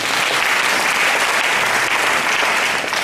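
A church congregation applauds the Lord, a dense, steady wash of clapping hands that holds loud and even for the whole stretch, with no voices rising above it.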